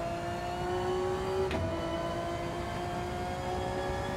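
Race car engine in Gran Turismo 7 holding a steady high-pitched drone with a brief surge midway, continuous and close with no talk.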